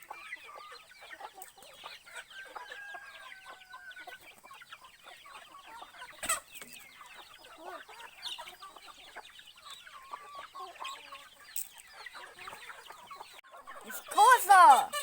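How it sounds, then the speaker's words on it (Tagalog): Native chickens on a provincial family farm cluck and chatter steadily in a busy flock, with scattered sharper calls throughout and a louder squawking burst near the end, heard at close to moderate distance. "Ito po yung mga manok ng aking nanay."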